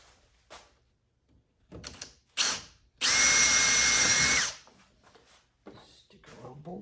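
A power drill whines loudly in one sustained burst of about a second and a half, drilling holes to mount a KFI winch on a 2018 Polaris Ranger 900 XP, framed by clunks and handling noises.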